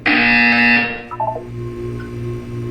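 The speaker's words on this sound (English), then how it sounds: "You will hear a buzzer." A loud, harsh electronic buzzer from the Portal 2 video game blares for about a second, followed by a brief run of softer chiming tones over a low hum.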